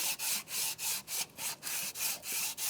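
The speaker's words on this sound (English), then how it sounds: "take my sanding block, nice and flat, place it right against that block" Rhythmic back-and-forth strokes of a flat sanding block scrape steadily over a 1992-1996 Ford F-150 engine block, about eight even passes, close and clear with no talking.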